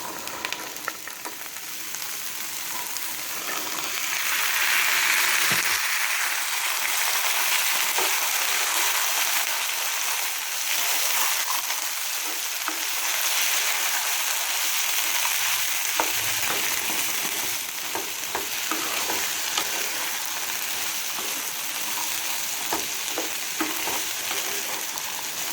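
Boiled black chickpeas (kala chana) sizzling and being stirred in a pan for Kerala kadala curry, a loud, steady hiss with scattered spoon scrapes and knocks throughout, close by and free of speech.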